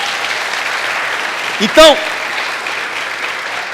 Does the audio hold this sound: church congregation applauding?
yes